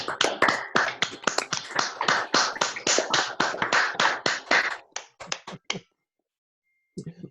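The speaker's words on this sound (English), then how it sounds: "let's give Chris a big round of applause" Scattered hand claps from a small group joining an online meeting over microphones, a quick run of sharp close claps that thins out after about five seconds, followed by silence and a faint final rustle.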